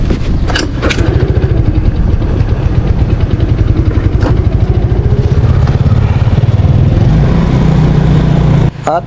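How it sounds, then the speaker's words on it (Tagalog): A Yamaha Mio Sporty scooter with a sputtering carburetor runs close and loud, its engine chugging in a rough, uneven rhythm with occasional pops, then cutting out abruptly near the end. "humahagok yung karburador ng ating Mio Sporty"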